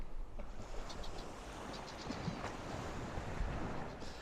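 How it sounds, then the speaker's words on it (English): Wind buffets the microphone on an almost deserted sandy beach near Broadstairs, with a continuous low rumble and waves washing in faintly underneath, steady throughout. "an almost completely deserted sandy beach"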